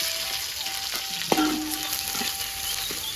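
Shallot, garlic, large chilli and galangal frying in a pan for Indonesian sambal, a steady bright sizzle with a sharp clatter of stirring midway, continuous and close.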